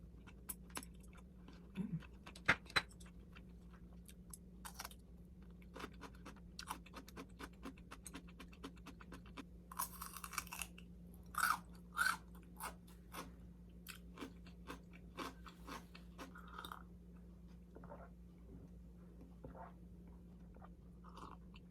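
Salmon dipped lightly in soy sauce being chewed close up, giving soft wet bites and crunches over a steady low hum, with construction noise from outside.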